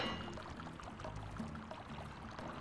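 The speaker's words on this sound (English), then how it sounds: "It looks like water's flowing everywhere." Water flows and pours in Sly 2: Band of Thieves, a soft, continuous trickling stream with some faint game tones, quiet and unbroken throughout.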